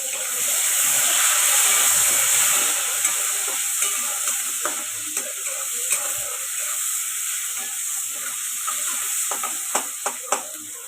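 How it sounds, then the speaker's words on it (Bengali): Sliced onions frying in hot oil in a pan while cooking methi potol, a loud continuous sizzle with occasional stirring scrapes and small pops, close up and without talk. "ওর মধ্যে দিয়ে দেবো কেটে রাখা পেঁয়াজ।"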